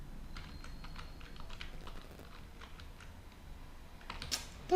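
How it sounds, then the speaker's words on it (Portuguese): Fingers type on a computer keyboard in a steady run of quick, irregular keystrokes, close and moderately loud, ending with a slightly louder burst of keys. "Opa, hoje eu estou digitando muito errado."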